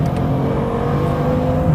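A Bugatti Chiron at speed, around 320 km/h, gives a steady, dense engine and road roar heard from inside, holding an even level throughout with no voices.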